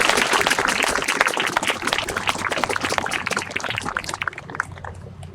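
Sustained applause from the crowd at the Michigan WW2 Legacy Memorial groundbreaking honoring board members, a dense steady clatter of many hands that continues throughout, with a faint low hum underneath.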